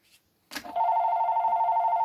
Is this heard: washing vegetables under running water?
no